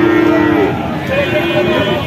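A cow lets out a drawn-out low moo near the start at a busy cattle market selling Sahiwal and Friesian bull calves, followed by fainter calls amid a steady crowd murmur.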